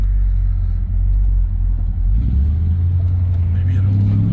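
A 1971 Dodge Polara with 31,000 original miles, back on the road after over 20 years and with a dragging brake, rumbles near and loud as its engine idles, then rises in revs as the car pulls away.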